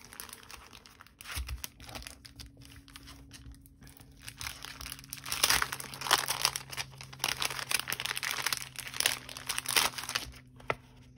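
Plastic packaging crinkles and crackles in irregular bursts as paper ephemera pieces are pulled from a 6x6 paper pad pack, close and fairly quiet, busiest in the second half, with no speech.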